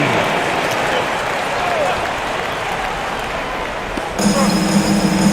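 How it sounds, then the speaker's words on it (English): Arena crowd noise and applause during a timeout at a basketball game, Toronto against the Cleveland Cavs, a steady broad wash of clapping and crowd sound that swells slightly near the end. "Round of applause for your Cleveland Cavs mini."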